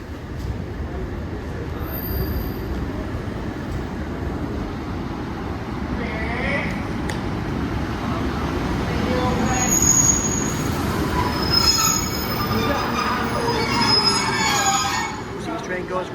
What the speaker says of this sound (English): Next train to arrive in is a 150 to 156 going to Warrington Street.